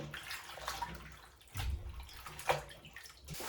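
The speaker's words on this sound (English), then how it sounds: "After chopping the greens, I soak them in baking soda water." Water sloshing and trickling as chopped greens soak in baking soda water, with irregular splashes and gurgles, close and soft, a louder swirl midway.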